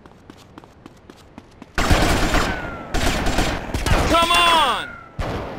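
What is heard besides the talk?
gunfire in video game GTA Vice City Stories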